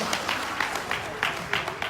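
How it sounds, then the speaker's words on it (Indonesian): Scattered audience applause at a motivational seminar on earning income, fairly thin clapping with speech mixed in over it, moderately loud throughout. "Tepuk tangan buat semuanya."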